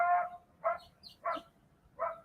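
Coyotes give four short, spaced barking calls, faint and distant, with quiet gaps between them.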